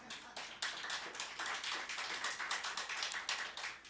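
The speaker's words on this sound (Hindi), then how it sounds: "ताली बजा दो" An audience at a Shiv Puran religious discourse claps together in a dense, continuous stream of hand claps, fairly distant and steady after a brief start.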